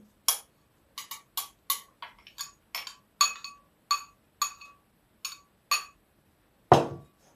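A spoon stirs cocoa into a mixture in a bowl for wafer cakes, giving about a dozen sharp, separate clinks against the bowl at an uneven, unhurried pace, close and alone in near silence, then a final duller knock.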